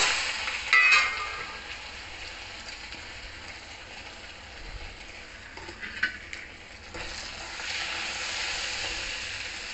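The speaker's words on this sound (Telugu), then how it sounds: "నూనె వేడెక్కింది కదండి. ఇప్పుడు కారము, ధనియాల పొడి, జీలకర్ర పొడి, పసుపు అన్నీ వేసేసుకుందాము." Chili powder, coriander powder, cumin powder and turmeric fry in hot oil, giving a soft, steady sizzle with a few brief louder crackles near the start.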